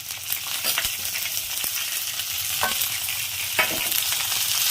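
Ginger, green chillies and curry leaves frying in hot oil for upma: a bright, steady sizzle up close, broken by a few sharp stirring scrapes and spatters.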